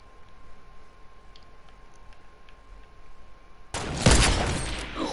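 Gunfire in a PS4 video game: after several seconds of quiet electronic hum and faint ticks, a sudden loud burst of shots erupts and continues to the end.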